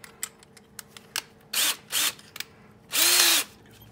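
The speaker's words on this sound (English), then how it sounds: "I'm gonna finish drilling these holes." A power drill bores holes in metal for a rear disc brake conversion on a 1992 Z28, with several short whirring bursts and a longer final run, faint clicks between, close and moderately quiet.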